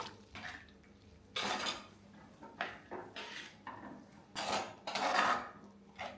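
Jackfruit seeds are added to a cooking pot holding cooked carrot and yam, giving clattering bursts of a spoon against metal and scraping stirs in several uneven bursts, close and fairly clear, with no talk.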